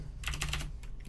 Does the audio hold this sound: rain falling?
no